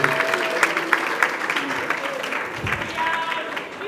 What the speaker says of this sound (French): Soyons applaudissants très fortement